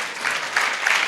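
A church congregation claps hands at a Sunday prayer service, a brief burst of dense crowd applause, loud and close, with no speech over it.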